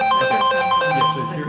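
A mobile phone rings loudly and close by with an incoming call, a bright repeating melodic ringtone of quick tonal pulses, over a voice talking underneath.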